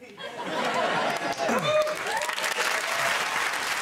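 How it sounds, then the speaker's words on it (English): Studio audience applause on a TV comedy panel game show, a dense, sustained burst of clapping from a large crowd with scattered laughter and voices mixed in, loud throughout. "Let's let's retract that round of applause."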